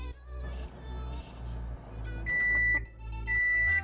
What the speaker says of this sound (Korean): 그냥 전자레인지에 돌릴 거예요